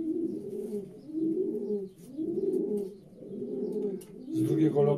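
Racing pigeon hens coo inside a breeder's loft in Żagań, giving close, repeated rolling coo phrases in a steady rhythm, with a faint voice briefly in the background.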